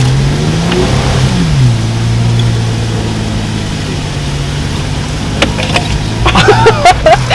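A ZR2 pickup truck engine revving steadily while driving off-road on the Colorado Backcountry Discovery Route, a loud sustained mid-pitched drone with rising revs, plus some rattling and clunks near the end.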